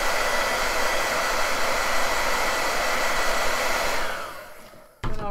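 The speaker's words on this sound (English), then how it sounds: "I'm holding the hairdryer right over it so it dries." A hair dryer blows loudly and steadily, then winds down and cuts off near the end, followed by a brief click.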